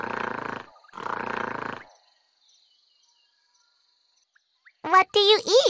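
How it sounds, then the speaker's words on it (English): Gorilla roaring in an African mountain forest: two loud, rough roars in quick succession, then a pause and a burst of high, chattering calls. "We hoot and roar when we're mad."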